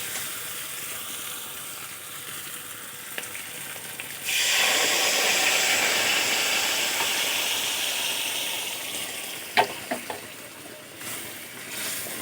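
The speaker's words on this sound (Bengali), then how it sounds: "এখন আমি সিদ্ধ করে রাখা ডালগুলো দিয়ে দেব।" Boiled mung dal goes into a pan of fish heads fried in spices, setting off a sudden loud hiss and sizzle that swells, then slowly settles, with a few sharp clinks of a utensil near the end.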